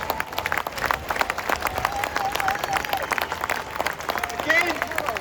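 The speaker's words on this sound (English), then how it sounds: "Let's have a round of applause for the survivors." An outdoor crowd at a rally in Parliament Square, London, applauding survivors: dense, sustained clapping with scattered cheers and whistles from many people, fairly close, with voices calling out through it.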